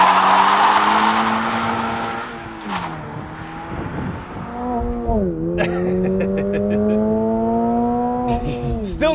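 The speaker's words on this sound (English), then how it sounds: "'24 Subaru BRZ. TS without launch control" A 2024 Subaru BRZ tS sports car with a 2.4-liter four-cylinder and manual transmission accelerates hard. Its engine note climbs through the revs, drops at gear changes, then climbs again, with tire noise, loud and close.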